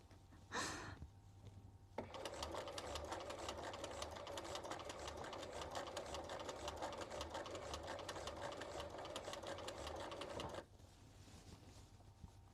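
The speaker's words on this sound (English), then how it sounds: "My stitching in the ditch is so bad." A sewing machine stitches in the ditch on a Victorian skirt. It runs in one steady, close, continuous stretch of about eight seconds, then stops into near silence.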